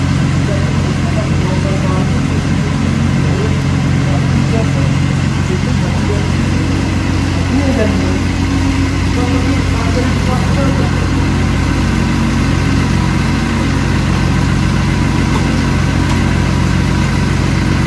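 A BMW E36 turbo engine runs as a loud, steady idle drone that stays close throughout, with people talking over it.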